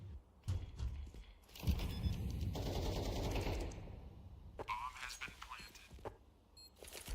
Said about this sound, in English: Bullets heard